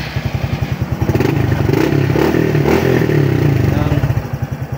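A Honda RS125 Fi motorcycle has its starter pressed: a rapid rhythmic cranking chatter rises into a brief clattering catch and rev, then settles back into a steady pulsing beat, loud and close, with no talk.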